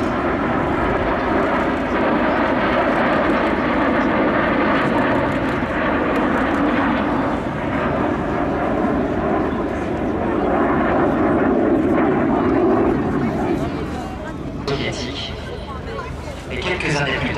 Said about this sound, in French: un Messerschmitt 262 et un Mi-15.